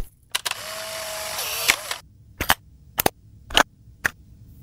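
A camera being switched on during a comedy film shoot: sharp, isolated mechanical clicks and snaps, several of them close together, with a brief whirring hiss near the start and no voices.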